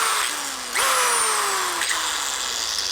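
An electric power drill in a workshop whines steadily, its pitch dropping and jumping as the motor is tripped into reverse to stop the chuck quickly, loud and close throughout.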